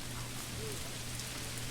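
Steady rain falls across a medieval village during the first storm in the Manor Lords game, a constant even hiss with no breaks, heard alone without voices.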